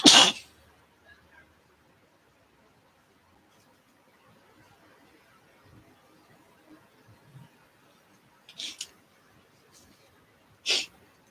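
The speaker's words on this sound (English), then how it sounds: "Actually, I had to sneeze." A single person sneezes sharply at the start, then after a quiet stretch two more short sneeze-like bursts follow near the end, close and clear in an otherwise silent room.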